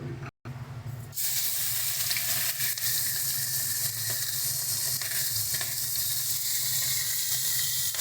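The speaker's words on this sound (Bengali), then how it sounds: "এবারে এর মধ্যে আমরা মাছগুলো দিয়ে ভেজে নেব" Fish pieces frying in hot oil in a karahi for a Bengali morola fish dish, a loud steady sizzle that starts after a brief pause and holds strong and continuous to the end, with no talking.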